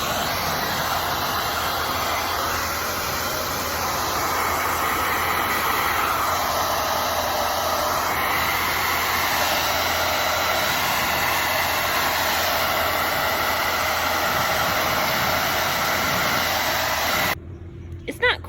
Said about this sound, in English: I'm going to use my hair dryer to kind of act like wind